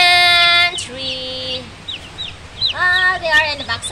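Live chickens bought at a market and kept in a box, clucking and squawking loudly up close in repeated bursts, with overlapping calls and some background noise.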